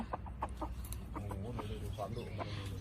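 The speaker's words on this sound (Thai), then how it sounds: "อันนี้ยังเป็นไก่เด็กอยู่ ยังไม่ออกสนาม" Soft, short clucks from a young fighting cock repeat irregularly close by, with faint voices and background noise underneath.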